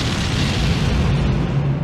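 A bridge is blown up in a film, producing a loud, deep explosion boom with a rumbling, roaring body that fills the short moment without fading and with no voices.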